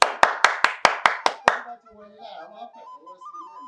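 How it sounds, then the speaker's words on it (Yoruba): Hands clap eight times in a quick, even rhythm, sharp and close, then stop as a voice begins speaking. "ká pàtẹ́wọ́"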